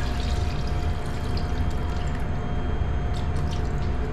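Water is poured into a cooking pot in a steady, close, continuous splashing flow with faint dripping at the end, heard alone without talk.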